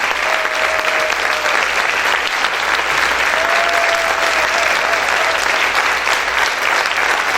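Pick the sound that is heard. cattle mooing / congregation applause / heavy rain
congregation applause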